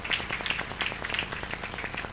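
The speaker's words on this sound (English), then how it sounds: "So clap for Father, please." A church audience in a parish hall applauds the priest at a career clinic, a quiet, steady patter of many hands clapping at a distance, evenly sustained with no voices over it.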